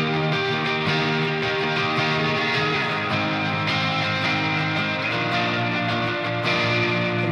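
Distorted electric guitar strummed in a chord progression, loud and sustained, with sharp strum attacks every second or so.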